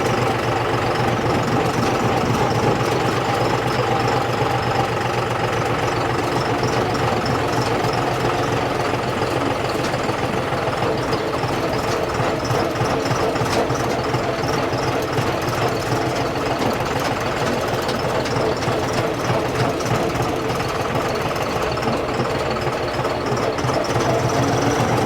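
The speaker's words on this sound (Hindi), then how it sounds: "अब ट्रैक्टर टॉप गियर के ऊपर है" A John Deere tractor with a rotavator attached runs in top gear at 1000 rpm, giving a steady, loud, low diesel drone with a rough knocking rumble that holds unbroken throughout.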